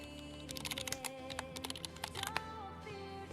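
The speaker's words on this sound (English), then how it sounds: "Might want to take the keyboard noises down a little bit." Rapid typing on a computer keyboard during a casual Mac setup session, a steady clatter of close key clicks with uneven bursts over a low background hum.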